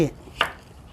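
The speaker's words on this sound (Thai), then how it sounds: "เราก็จะหั่นเอาไส้ออก เพราะไส้แตงกวา มันจะเป็นน้ำนะคะ" A knife cuts through a peeled cucumber on a cutting board to take out the watery seed core for a salad roll, one short crisp chop standing out near mid-clip against quiet kitchen background.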